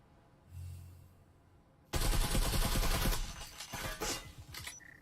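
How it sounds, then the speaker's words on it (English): Gunfire in the VR shooter game Breachers on the Ship map during a competitive match, a sudden dense burst of rapid shots and impacts after a quiet start, loud and continuous. "Sandy does catch Lynx with the headshot."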